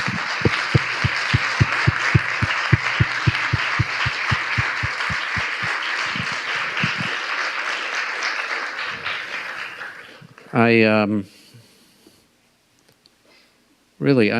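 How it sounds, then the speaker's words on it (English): A conference audience at an animal welfare science and policy event gives a sustained round of applause, dense clapping with distinct near claps that fades out, followed by brief voices. "Can we all give a round of applause to these extraordinary people?"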